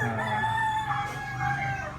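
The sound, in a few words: rooster crowing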